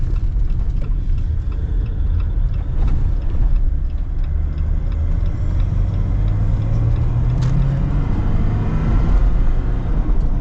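A 6x6 Jeep Gladiator on big 20-inch wheels with mud-terrain tires drives along, its steady low engine rumble and road roar loud and continuous throughout.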